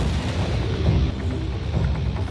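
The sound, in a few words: gunshots in a film scene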